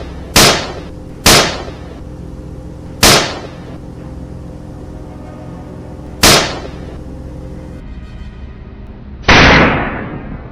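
Rifle shots on a wild boar hunt in a swamp: five sharp, loud cracks spaced irregularly, each trailing a short echo, the last one heavier and longer.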